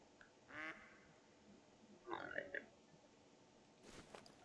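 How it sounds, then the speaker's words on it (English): Ducks quack in theHunter: Call of the Wild on the Revontuli Coast map, a few short nasal calls in separate bursts over faint ambient background, moderately near and not very loud. "I got some ducks landing out here"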